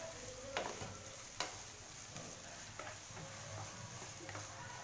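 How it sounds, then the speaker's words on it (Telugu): Onions frying in a pan for a chana masala with baby corn: a steady broadband sizzle runs throughout, broken by a few sharp utensil clicks and scrapes as they are stirred. "కొంచెం బాగా ఫ్రై అయినని పచ్చి వాసన పోయేలాగా ఫ్రై చేసుకోండి"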